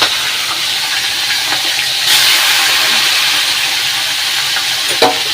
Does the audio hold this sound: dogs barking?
no